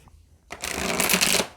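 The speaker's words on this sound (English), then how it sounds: "One more good shuffle and we'll do it." A quick riffle of a tarot card deck, a short crisp flurry of flicking cards after a moment of quiet.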